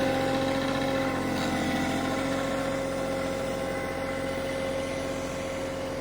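A Kioti CK2620 compact tractor engine idles steadily close by, a constant loud diesel rumble with an even vibrating hum and no voices over it.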